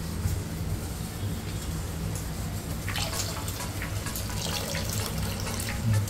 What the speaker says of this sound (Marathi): आता याच्यामध्ये आपल्याला टाकायचं आहे पाणी.